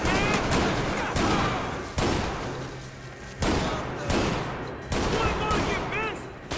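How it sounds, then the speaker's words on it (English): Shotgun blasts in GTA V, four loud booming shots spaced roughly a second and a half apart, each trailing off into a rumbling decay with a noisy game backdrop and no talk. "Vamos na shotgun agora"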